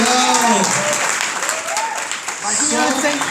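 Dense, steady clapping from an audience at a business recognition event in Ribeirão honoring new Double Diamond Elite members, continuing throughout with a voice talking over it.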